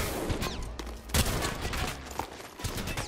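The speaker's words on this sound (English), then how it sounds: "Why is my gun shooting?" Bursts of gunfire in Apex Legends, several sharp cracks and a rapid volley spread across three seconds, fairly loud and close over continuous game noise.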